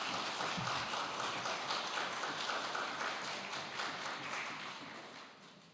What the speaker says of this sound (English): I think that applause was way too short